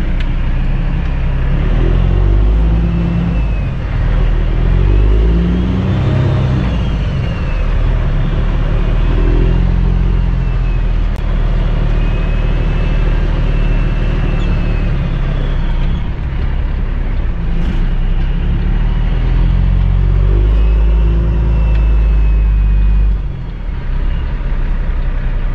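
Road traffic rolls past a waiting truck, a steady rumble of cars and buses with air-brake hiss and engines revving, loud and continuous with no talk over it.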